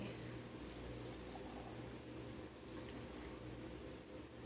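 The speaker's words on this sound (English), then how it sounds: "I brought some of the brine in my little cup because I thought this would be easier to pour." Dill pickle brine pours from a small cup into a jar, a steady soft trickling splash that runs without a break at low level.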